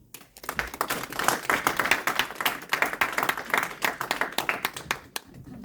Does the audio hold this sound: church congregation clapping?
yes